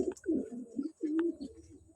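Domestic pigeons coo inside a loft in Baruipur, Kolkata, giving soft low repeated cooing phrases that sound close and steady, with a faint chirp mixed in.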